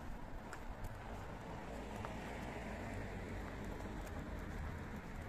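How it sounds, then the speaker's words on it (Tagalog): Steady rain patters on surfaces throughout, a constant dense hiss with faint scattered drips and distant bird sounds. "Ayun lang, ulan."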